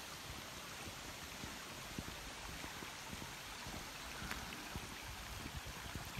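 River water runs steadily through a rocky valley in Las Hurdes near an abandoned shepherds' village, a continuous broadband rush and gurgle at moderate distance with no voices over it.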